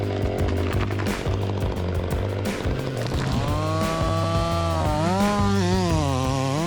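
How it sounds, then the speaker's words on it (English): A steel chainsaw cuts into a large tree trunk, its loud, steady engine whine shifting pitch and rising as the chain bites into the wood, close by and continuous throughout. "There's no better sound than the whine of a steel chainsaw as it makes contact with a large tree trunk."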